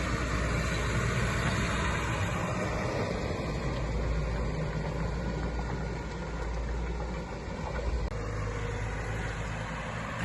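A Massey Ferguson tractor engine rumbles steadily and continuously at close range while pulling hired trailers, a low droning idle-like tone with no speech over it.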